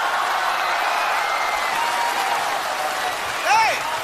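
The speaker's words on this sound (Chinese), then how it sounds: "都来一次掌声吧" Dense, steady applause from a concert audience at a show fills the hall, with a voice briefly rising over the clapping near the end.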